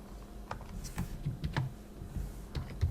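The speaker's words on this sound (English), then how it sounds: "So you can just type in Remmina here." Keys clatter on a computer keyboard in a quick, uneven run of soft taps and clicks, close and fairly quiet.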